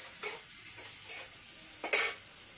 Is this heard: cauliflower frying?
yes